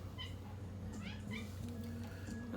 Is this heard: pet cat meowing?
yes